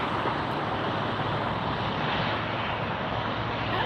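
An airliner touches down on a runway at Tampa Airport with a slight bounce, its engines giving a broad, steady roar heard from a distance and unbroken throughout.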